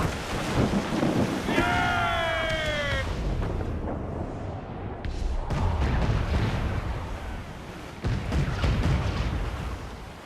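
Ship cannons fire in Assassin's Creed Black Flag as deep, rumbling booms roll over a continuous stormy wash of sea and weather, with a shouted command briefly heard early on.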